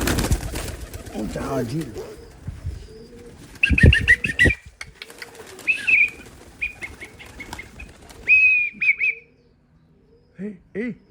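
Pigeons flap their wings in a burst and then give several short cooing and chirping calls, close by, with people talking earlier and in between.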